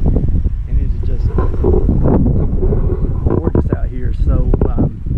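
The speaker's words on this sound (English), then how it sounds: "we are in the windy foothills" Heavy wind buffets the microphone throughout in the windy foothills of Wyoming, a constant low rumble with someone talking over it.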